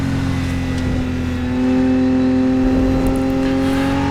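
A Porsche race car engine in a racing sim game drones steadily with a sustained tonal hum, rising slightly in pitch and intensity partway through, with no talking.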